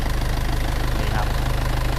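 A 2001 Mitsubishi Dragon Power pickup's diesel engine idles up close, a steady, even low rumble with a quick regular pulse throughout.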